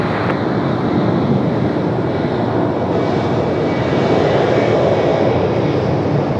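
A heavy UPS cargo jet takes off from runway 23 left at Raleigh-Durham International, its engines a loud, sustained roar that holds steady throughout with faint wind buffeting.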